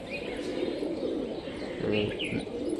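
A Mushki pigeon, a green-toned bird with feathered feet, coos softly in low, rolling murmurs close by, with faint higher chirps in the background over the short stretch.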